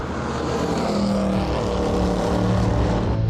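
A loud sports car engine roars close by with a deep, throaty exhaust note, holding steady and rising slightly in pitch.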